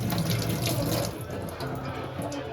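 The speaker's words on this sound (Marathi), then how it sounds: "आतला भाग हा स्वच्छ धुवायचा" Running tap water splashes into a kitchen sink while crab pieces are rinsed, a steady close-up gush with slight changes as the stream hits the crab and basin.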